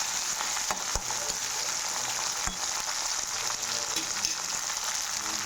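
Peanuts frying in hot oil for pulihora give off a loud, continuous sizzle, broken by a couple of sharp knocks against the pan.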